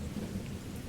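Steady rain with rolling thunder, a dense continuous hiss over a deep low rumble, even in loudness and with no voices.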